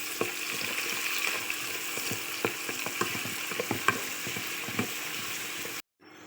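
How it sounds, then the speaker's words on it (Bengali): Chopped onions fry until browned in a pan with a constant sizzle, punctuated by repeated sharp clicks and scrapes of a utensil stirring, before cutting off abruptly. "পেঁয়াজ লাল করে ভেজে নেব।"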